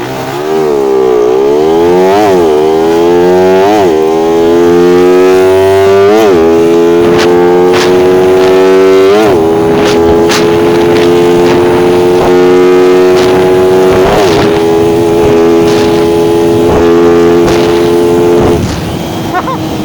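A carbureted Yamaha Sniper 150 and Suzuki Raider 150 motorcycle drag race: a loud, close engine wail climbs in pitch, breaks at several gear shifts, then holds a sustained high-revving scream almost to the end.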